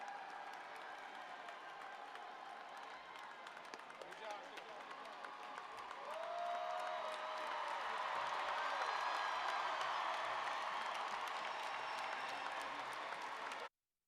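Large crowd applauding at a university undergraduate commencement ceremony, a steady broadband wash of clapping that swells louder partway through and holds, with murmuring voices mixed in.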